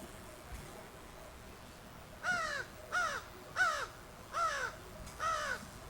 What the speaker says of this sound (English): That's an adult female crow, I think,